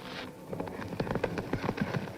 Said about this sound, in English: Horse is coming, boss.